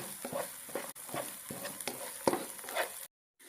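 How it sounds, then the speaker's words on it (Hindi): A masala of garlic, ginger, crushed chilli, turmeric and crushed coriander fries in a pan. It gives a soft, steady sizzle, broken by repeated scraping stirs of a spoon. No voices. "ये हमारा मसाला भुन गया।"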